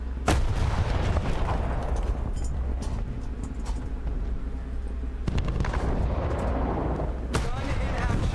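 An artillery gun fires in a video game: three heavy, sharp booms land near the start, at mid-point and near the end, over a constant rumbling battle bed, with a voice speaking in between.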